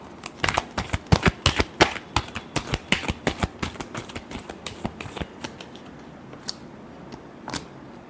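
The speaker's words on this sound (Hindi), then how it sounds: "Last shuffle." Tarot cards are shuffled by hand, giving a quick run of crisp riffling slaps and flicks that thin out into a few scattered taps, close and fairly quiet with no talking.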